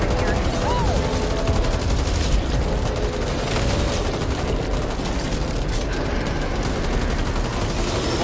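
Sustained game gunfire from Back 4 Blood as players blast zombies, a dense, continuous rattle of shots filling the whole stretch with no clear gaps.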